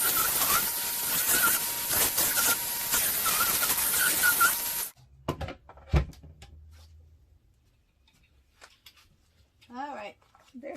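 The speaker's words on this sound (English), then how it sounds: "let me go ahead and turn on my belt sander" A Ryobi belt sander runs loud and steady indoors for about five seconds, then shuts off, leaving scattered knocks and faint movement noises.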